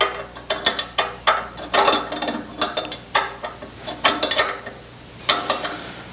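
A hand ratchet tightens a bolt while attaching an oil breather can on an engine, giving repeated bursts of quick, close clicking strokes separated by short pauses.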